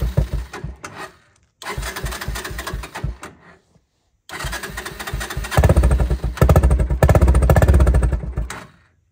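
Old Honda engine with the choke pulled cranking over in rapid chugging bursts, stopping twice, then catching and revving up loudly before cutting out, close by with no speech.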